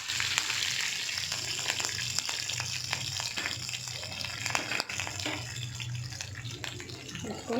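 Curry leaves frying in hot oil in a pan with shahjeera and sliced garlic, a dense, continuous crackling sizzle with frequent sharp pops throughout, close up and without speech.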